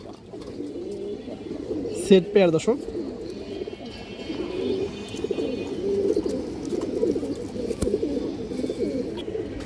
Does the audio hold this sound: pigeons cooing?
yes